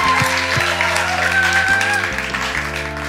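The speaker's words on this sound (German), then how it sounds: "Lass uns einen riesen Applaus geben." Applause from an ICF church audience welcoming a guest onto the stage, a broad wash of clapping under sustained music chords, loud and steady.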